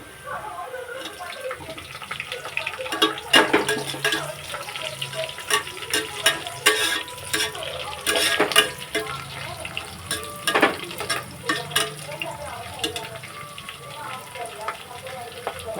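Tomatoes and green chillies sauté in a pan for a pulao, a continuous watery sizzle broken by frequent sharp scrapes and clicks of stirring.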